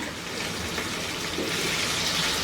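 Thinly sliced potatoes fry in a pan for an aloo capsicum bhaji, giving a steady, close, broadband sizzle that holds evenly with no talk over it.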